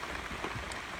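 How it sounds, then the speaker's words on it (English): Steady rain patters on two tarps strung over a hammock, a dense, even hiss of drops close overhead with no voices. "and it's still raining right now."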